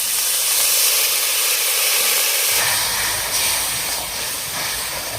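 Water poured into a pan of chana masala spices sets off a loud, steady sizzle and steamy hiss that fills the whole stretch, growing rougher and louder partway through, with no voices.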